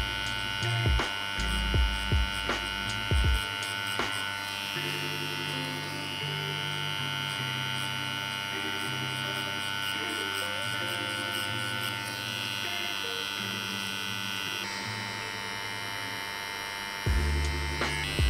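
A tattoo machine fitted with a 23 magnum soft edge needle shades skin, giving a steady electric buzzing hum that runs continuously at moderate level, with a few short clicks and knocks at the start and near the end.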